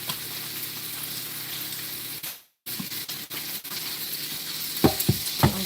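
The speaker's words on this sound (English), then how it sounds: "we definitely want to get a nice sear on our steak" A steak sears in a pan with toasted sesame oil, a close, continuous hiss of frying broken by a brief moment of silence, followed by a few clunks from the pan near the end.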